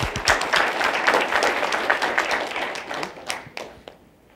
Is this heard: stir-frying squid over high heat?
no